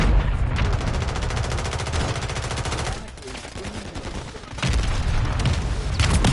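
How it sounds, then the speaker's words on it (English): Dense automatic gunfire rattles almost without a break in a Warzone ranked solos match, loud and close, easing briefly in the middle before the firing resumes heavily. "There's too much gunfire."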